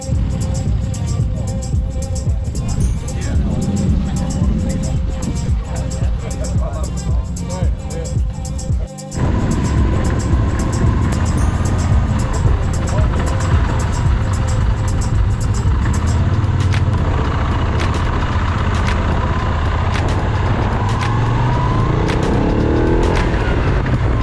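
Moto Guzzi motorcycle riding along a road after a motorcycle show, a steady loud engine drone with wind rush, briefly dipping around nine seconds before resuming, with talk heard over it.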